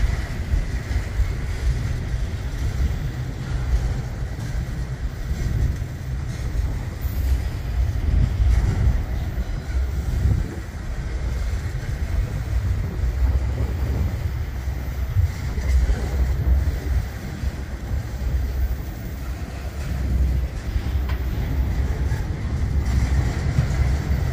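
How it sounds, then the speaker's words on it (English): A long freight stack train rolls past nearby at speed, giving a continuous heavy rumble of wheels and cars with some wind noise across the microphone, swelling and easing slightly over the whole stretch. "you got the faster train right here"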